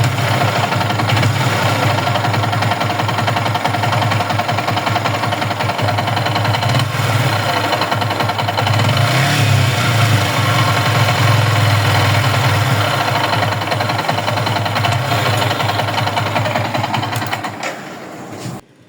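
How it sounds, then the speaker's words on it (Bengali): Yamaha R15 V3 motorcycle engine running with an abnormal, harsh noise: a loud, steady rumble with a rattling, knocking texture that continues throughout and fades out at the very end, with no talking. "আপনারা বাইকের সাউন্ডটি শুনলেন, দেখলেন কি বাজে একটা সাউন্ড"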